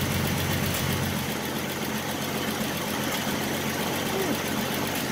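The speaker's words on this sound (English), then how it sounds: "She's just running. You just can't kill these old inline sixes." Old inline-six engine in a 1967 Ford Mustang running steadily, a continuous low rumble at a constant level with no revving, close by and alone.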